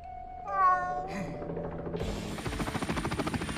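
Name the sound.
cartoon cat meowing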